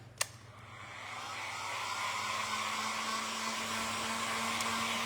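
A hair dryer blowing on vintage thrifted decoupaged butterflies, a steady close whirring roar that switches on after a brief click and holds constant with no talk.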